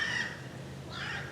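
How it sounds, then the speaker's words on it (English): Birds calling outdoors in the background, a crow-like caw repeated twice, fairly faint and distant with a short gap between calls. "You can hear the bird in the background has joined us."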